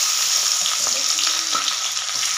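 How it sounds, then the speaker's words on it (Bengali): Onions and garlic sizzle in hot oil with garam masala in a pan, a steady loud frying hiss with occasional faint stirring scrapes. "হালকা করে ভেজে নেব"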